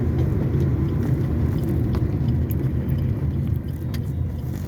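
A manual-transmission car engine hums in a steady, loud low rumble while driving, with the car being put back into fourth gear; no one talks over it.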